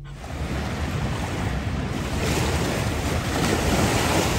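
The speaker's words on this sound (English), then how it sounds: "That is all the water coming down." Water pours down the spillway at Hume Dam, heard as a steady, loud, broadband roar that fills the whole stretch and swells slightly over time, with wind buffeting the microphone and no talk.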